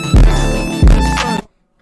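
Layered synth chords strike in two close, punchy hits, each with a thumping low attack that rings briefly before the sound cuts to silence.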